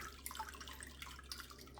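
Water draining from a paper-making mould lifted out of a vat, a soft steady trickle with scattered drips, close and fairly quiet, with no talk.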